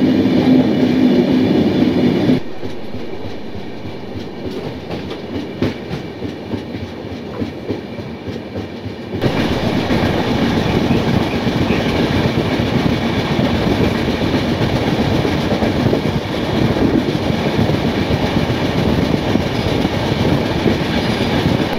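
Saraighat Express passenger train on the Howrah to Guwahati route, a steady rumble and rattle of carriages rolling along the rails, continuous and close throughout, with a duller, muffled stretch partway through.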